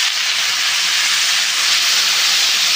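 Hot water hits a sizzling pan of vegetarian jackfruit curry with peas, sending up a loud, unbroken hiss of steam that holds steady from start to finish.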